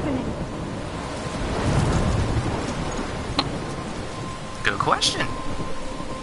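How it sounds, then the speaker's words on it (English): Steady heavy rain with a low rolling rumble of thunder in the Life is Strange video game, a storm ambience under brief game effects and a short spoken line. "I'm trapped in a storm?"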